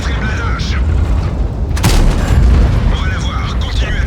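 Tank shell explosion from World of Tanks, a deep booming blast with a sharp crack midway, set against continuous rumbling battle noise with voices talking over it.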